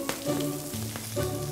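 Artichokes sizzle in a pan of hot olive oil and butter, a steady close crackle and hiss with a faint hum beneath it over a short stretch, and no one speaking.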